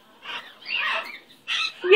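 A pet bird gives several short, shrill squawks and chirps in bursts during a training session, with a person talking close by.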